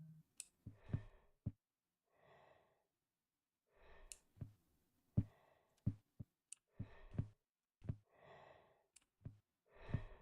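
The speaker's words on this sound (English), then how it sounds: "There's some heavy ass breathing that I don't know if you guys can hear" Heavy, slow breathing in the horror game I'm On Observation Duty 2 comes as several drawn-out, breathy exhales spaced a second or two apart, faint and close, broken by sharp clicks.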